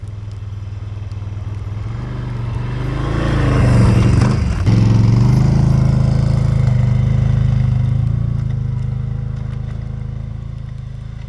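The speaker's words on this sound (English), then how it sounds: "So you can see even this part of the trail that I've already rode on, just with my ATV, I'm plowing a lot of snow." ATV engine driving along a snowy off-grid trail while plowing snow, a steady close motor drone that swells louder midway as the machine pushes through, then settles into a sustained hum, with no talking.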